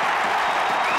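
A stadium crowd at the AFL Grand Final between Collingwood and the Brisbane Lions roars and applauds, a dense, continuous wash of cheering and clapping filling the whole moment.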